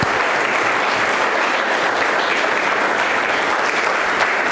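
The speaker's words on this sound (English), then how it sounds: "So let's give him a round of applause." Loud, sustained applause from an audience at a UK exopolitics community event in Liverpool: a dense, even roar of many hands clapping without a break for over four seconds.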